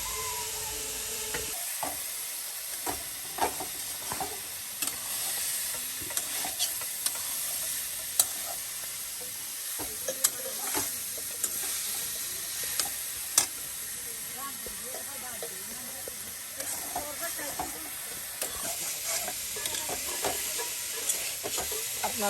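Food fries and sizzles in a pan in a rural houseboat kitchen, with steady hiss under repeated scraping stirs, and people talking nearby.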